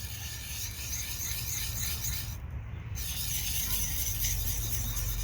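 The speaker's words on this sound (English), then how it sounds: "I'm going to try to do my best to register the stone flat to the bevel." A medium sharpening stone rubbed flat along the bevel of a drawknife, giving a steady, close rasping scrape that runs continuously, with a brief pause in the middle.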